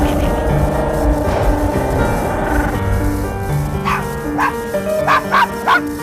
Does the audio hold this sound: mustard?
no